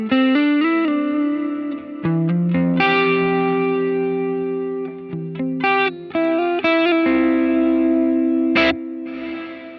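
An electric guitar run through a Line 6 Helix Heliosphere delay with reverb plays short picked phrases and sustained notes, each repeating in echoing trails with a lush, slightly distorted shimmer, played alone with no talking.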